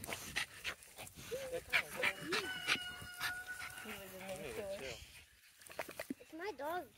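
French Bulldog and Cane Corso dogs vocalising close by, with whiny yips, whimpers and short howl-like cries in bursts, along with panting and a person talking.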